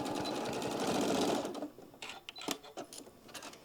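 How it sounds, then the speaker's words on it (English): A sewing machine runs in a steady, dense buzz for about a second and a half while stitching drawstring fabric down, then stops, leaving scattered handling clicks and soft fabric rustles. "Just stitching it down."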